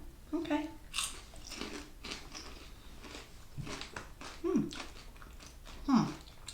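Crunchy peanut butter snack shaped like a corn nut, chewed and bitten close up in a series of irregular crisp crunches, with a few louder bites near the end and quiet talk in between.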